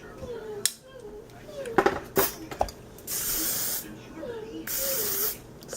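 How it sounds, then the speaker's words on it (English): Two long hairspray sprays hiss close by, each lasting over a second, after a few clattering knocks and light handling sounds. "I'm using extra hairspray with this"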